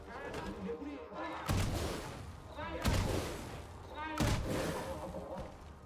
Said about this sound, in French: il va tirer avec son canon.